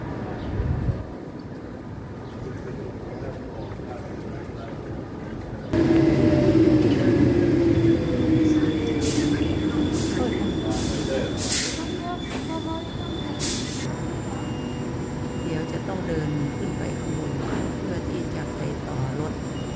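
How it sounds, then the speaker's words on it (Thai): Trains inside Oslo S railway station in Norway, with a steady low rumble of a train moving close by, several sharp high squeals or hiss bursts midway, and a continuous station hum throughout. "บริเวณด้านในของสถานีรถไฟออสโลเอส"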